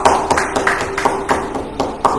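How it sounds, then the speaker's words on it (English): A church congregation claps to honor a couple celebrating 25 years of ministry, with loose, uneven bursts of hand claps rising and falling at a fairly near distance and no voices. "let's give them a round of applause again"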